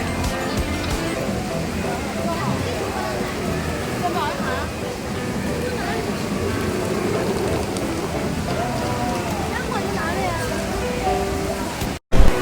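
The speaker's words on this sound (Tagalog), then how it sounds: "maulan pa rin" Steady rain falls outdoors in Singapore near a Jurassic Park store, a dense, even hiss of drops with crowd voices and chatter mixed in throughout.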